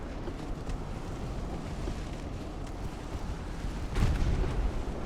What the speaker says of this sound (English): we can just hit them with our cannons until they die